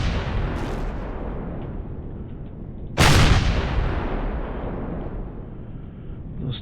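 A loud blast from a Zirax base turret in Empyrion Galactic Survival hits at about the three-second mark, its boom rolling off slowly over a steady rumbling engine-like drone that runs throughout.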